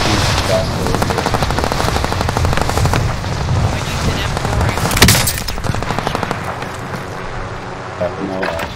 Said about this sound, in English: I used an M4 and I'm going to shoot